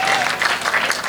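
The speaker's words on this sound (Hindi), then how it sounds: "बजाओ ताली जरा जोरदार" Loud, steady applause from a live audience at a Hindi comedy show, with dense clapping running for the whole second and no voices.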